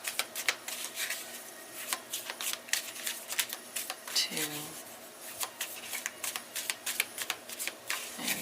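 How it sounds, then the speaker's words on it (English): Tarot cards being shuffled by hand, a run of quick crisp riffling flutters and taps close by, with a voice briefly counting between the bursts. "Okay, I'm going to do 3 shuffles."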